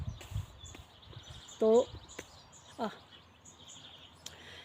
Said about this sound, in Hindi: सुन रहे हो आप चिड़िया की आवाज़